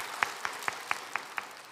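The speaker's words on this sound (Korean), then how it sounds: "우리 수고하신 교육자님들 가운데 격려의 박수 하겠습니다." Six evenly spaced, distinct claps at a steady rhythm, heard faintly in a church service setting as a congregation applauds to encourage educators.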